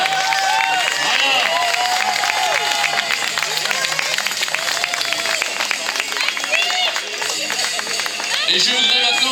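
A crowd applauding Handisport finishers at a marathon finish line, steady clapping and scattered cheers under an announcer's amplified voice, with birdlike whistles and chirps throughout.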